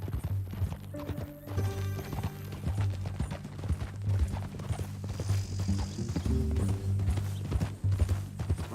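Horse hooves clip-clop steadily in Red Dead Redemption II, a continuous close rhythm of hoofbeats over a low ambient game rumble, with an occasional whinny-like tone and no talk.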